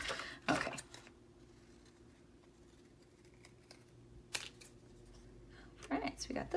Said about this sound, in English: These scissors.